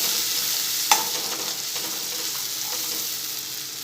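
Spice paste being sautéed and stirred continuously in a pan, a soft steady sizzle with scraping spatula strokes and one sharp clink near the start.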